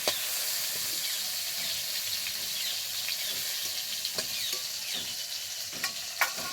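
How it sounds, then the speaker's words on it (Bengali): Prawns sizzle in mustard oil in a kadai for a taro curry, a steady hiss broken by a few sharp clinks and scrapes of stirring. "চিংড়ি মাছগুলো খুব ভালোভাবে ভেজে নিয়েছে"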